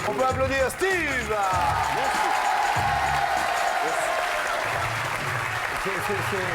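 Studio audience on a French television game show applauds a contestant, a steady broad wash of clapping filling the whole stretch while a host talks over it near the start.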